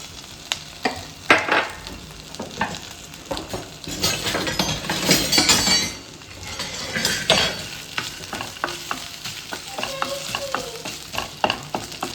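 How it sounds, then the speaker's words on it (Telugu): Ginger and dried red chillies fry in a pan, giving a steady close sizzle broken by repeated scraping stirs and light clinks of a spoon against the metal, with no voices. "తర్వాత అల్లం వేసుకొని వేయించుకొని ఒక 2-3 మినిట్స్. దాని తర్వాత ఎండుమిరపకాయలు యాడ్ చేసుకొని 1 మినిట్ వేయించుకొని"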